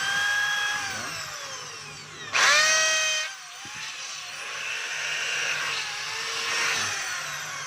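A DeWalt D21710 half-inch hammer drill tested after switch repair, its motor whining through spin-ups and winding down, with one louder, harsher burst mid-clip, close by and without talk.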